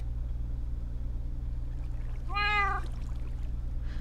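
A single short cat meow rises briefly in the video game Minecraft, heard clearly over a constant low hum of game background sound.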